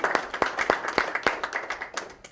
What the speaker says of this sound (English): So I do want to give you a round of applause